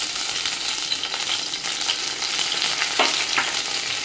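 Steady crackling sizzle of garlic and curry leaves frying in hot oil, close and continuous, with a few soft stirring scrapes and no talking.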